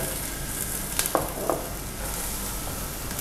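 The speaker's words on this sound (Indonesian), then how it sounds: "Bawang putih sama bawang bombaynya dulu nih yang udah dicincang ya." Chopped garlic and onion fry in hot oil, a steady loud sizzle filling the whole clip, with a few brief clinks of a utensil stirring the pan.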